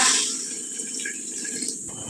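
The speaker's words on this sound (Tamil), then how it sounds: "நான் சூடான தண்ணி சேர்த்துக்கிறேன்." Hot water is poured into a pot of sambar vegetables, giving a brief splashing pour that starts strongly and then settles into a softer trickle for about two seconds.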